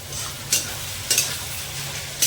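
Onions fry in a pan with a steady soft sizzle, punctuated by three sharp scrapes of a spoon stirring them, close and fairly quiet, with no talking.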